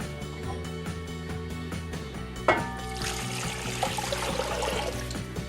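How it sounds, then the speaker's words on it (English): Water poured into a big pot over pork ribs, about two litres, for a hot and sour pork rib soup; a steady close pour starts partway through and continues over a faint background hum. "I'm going to cover the ribs with about 2 litres of water"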